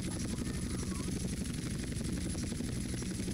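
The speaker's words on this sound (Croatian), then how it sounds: "Jel čuješ gdje helikopter?" Helicopter in the video game GTA San Andreas multiplayer, a steady, loud rotor drone with dense low thumping that fills the whole stretch, with no talk over it.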